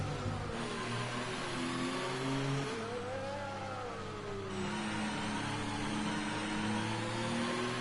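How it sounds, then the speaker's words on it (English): A racing car engine in the F1 2019 video game, driving the Racing Point car, strains at high revs with a shifting, wavering whine that rises and dips, close and continuous with no talk. "Oh, that is a terrible sound. The engine just... It can't be good for the motor."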